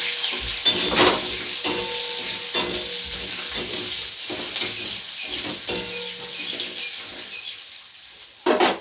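Black cumin seeds sizzle in hot oil as a tempering for a Bengali prawn and taro stolon dish, a bright steady crackle with repeated close scrapes and knocks of a stirring spoon against the pan.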